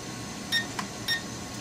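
A Syma X8HW drone transmitter sounds short, thin electronic beeps when its button toggles headless mode: two quick beeps about half a second apart, close and clear over a faint steady background hiss.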